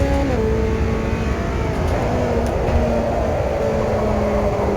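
A car engine drones loud and steady at full throttle through a corner on a lap, a dense sustained roar with a slight pitch shift early on, heard from close inside.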